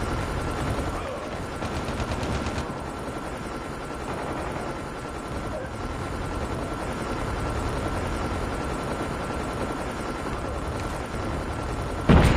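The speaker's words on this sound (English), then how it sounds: "Friendly stealth chopper inbound" A stealth chopper in Call of Duty, heard as a dense, constant roar of rotor noise mixed with rapid gunfire and explosions throughout, loud and sustained with no pause.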